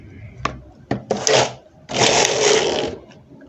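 Knittax knitting machine carriage swept across rows of needles, a few sharp clicks followed by two loud rasping, whirring passes close by with no talking.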